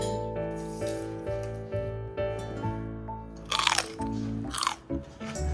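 A large crunchy green chili pepper is bitten close to the mic, producing a couple of loud crisp crunches. A steady tonal background hum sits underneath.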